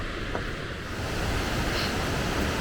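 Steady rushing water roars continuously, a dense broadband wash like a waterfall heard up close, with no voices, near Sulitjelma, Norway.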